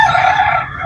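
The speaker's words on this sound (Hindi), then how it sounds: "ये मिस्री मुर्गी है" An Egyptian (Misri) hen at a pet market gives a single brief, loud, close call that fades at the end.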